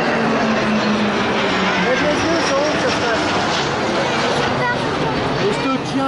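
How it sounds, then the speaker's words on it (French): A loud, continuous Alpha Jet training aircraft roar fills the scene during the Bastille Day military flyover in Paris, its pitch slowly shifting as the plane passes overhead. "Il y a les alpha-jets et les avions d'entraînement."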